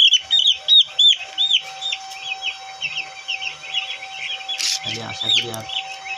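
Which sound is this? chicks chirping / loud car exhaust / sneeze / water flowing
chicks chirping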